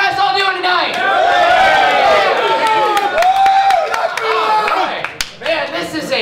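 A crowd at a Santa Cruz End The NDAA rally claps and cheers steadily, a dense wash of applause and voices that stays loud throughout and thins slightly near the end.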